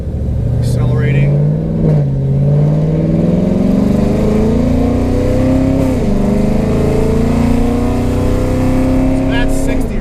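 A 2013 Chevrolet Camaro ZL1 accelerates gradually. Its engine drone climbs steadily in pitch and holds loud and close, with a brief dip as it shifts, and a voice is heard over it.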